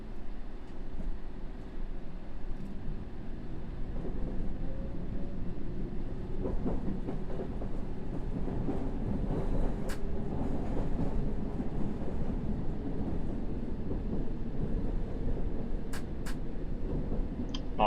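London Underground Circle Line train pulling away in the video game World of Subways, a steady loud rumble with rail clatter and rising motor whine running throughout, no voices.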